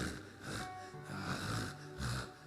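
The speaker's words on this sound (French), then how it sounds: "Mais vous entendez les gens ronfler." People snore during an online call, three slow, loud, breathy snores in a steady rhythm, each drawn-out rasp followed by a pause, with no talking.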